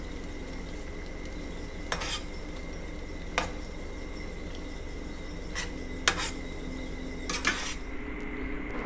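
Egg noodles being tossed with Dipitt pasta sauce in a pan, heard as a few sparse metallic scrapes and clinks of utensil on pan over a constant background hum, with no voices.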